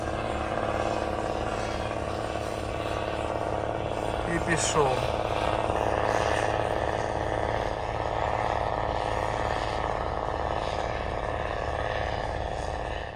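A Slobozhanets tractor pulling an Opticon four-body reversible plow with corn skimmers drones steadily and loudly throughout, its engine note constant under someone speaking over it.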